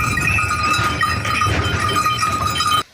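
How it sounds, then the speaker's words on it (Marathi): A flock of sheep walks close behind a cart, bleating over one another amid a constant shuffling din. "आपल्या मेंढ्या मागे येत आहेत, बघू शकता तुम्ही आता"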